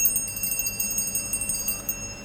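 A small brass bell made in England rings with a bright, jingling shimmer, struck repeatedly in a quick, uneven rhythm close by, alone without any talking.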